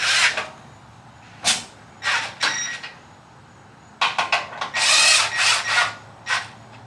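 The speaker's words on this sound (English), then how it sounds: "let's go ahead and snug these bolts up a little bit." Hand tool snugging up bolts on a rear bumper of a 2021 Ford Bronco, heard as short raspy ratcheting bursts in irregular clusters, close and moderately loud, with quiet pauses between.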